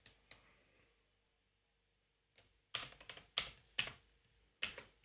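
Quick keystrokes on a computer keyboard enter a slash image shortcut command in Notion: a couple of faint taps, a pause, then a burst of crisp, close clicks in uneven rhythm.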